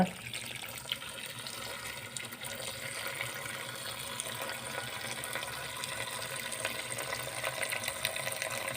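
Water poured in a steady continuous gush into a cooking pot, close and even throughout with no talking.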